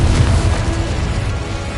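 A Confringo fire spell in Hogwarts Legacy goes off as a deep, rumbling blast, a loud booming burst that holds briefly and fades.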